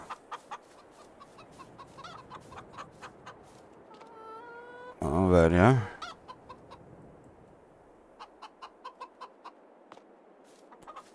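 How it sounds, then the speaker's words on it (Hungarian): Chickens in the Farming Simulator 22 video game cluck in a steady series of short repeated calls, with a brief louder squawking burst in the middle and a short spoken remark. "111 darab tyúkom lett."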